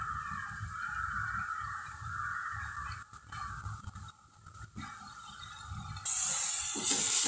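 Dill leaves (shepu bhaji) drop into a hot pan with a soft steady sizzle, then a louder rustling hiss at the end.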